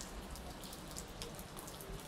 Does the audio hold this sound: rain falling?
yes